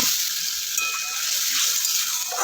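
A paste of tomato, ginger and green chilli frying in hot oil over a low gas flame, with a bright, continuous sizzle and faint stirring scrapes, close and with no talking.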